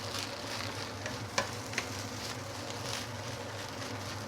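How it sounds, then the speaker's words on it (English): Seafood fried rice sizzling and frying in a wok as it gets its final stirs, a soft steady crackle with a couple of sharp utensil clicks partway through. "Give it a last few stir, and our beautiful aromatic seafood fried rice is ready to be served."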